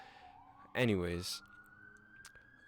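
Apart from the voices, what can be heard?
ambulance siren passing outside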